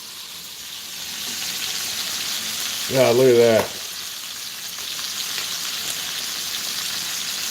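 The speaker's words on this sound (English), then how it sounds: "Sizzle, sizzle, sizzle." Meat fries with a steady, crackling sizzle throughout, and a brief spoken remark cuts in near the middle.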